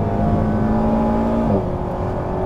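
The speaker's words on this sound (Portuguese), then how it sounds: "o som deste motor é glorioso." A 2023 Alpine A110 R sports car drives along with a steady, loud engine drone heard from inside, holding a constant tone before a brief pitch shift near the end.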